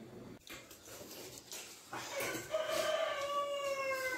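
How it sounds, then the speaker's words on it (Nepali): A rooster crows from a short distance, a drawn-out harmonic call rising in the second half over faint background noise, after brief rustling sounds. "अर्को भाले कराउँदैछ"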